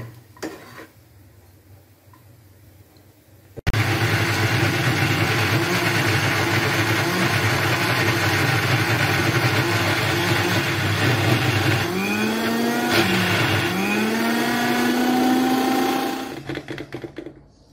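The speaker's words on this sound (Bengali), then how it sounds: "এখন আমরা এটাকে পেস্ট করার জন্য ব্লেন্ডার করব।" An electric blender grinds pointed gourd into a paste, starting abruptly after a quiet moment and running loud and steady for about thirteen seconds, its motor pitch dipping and rising midway before cutting off.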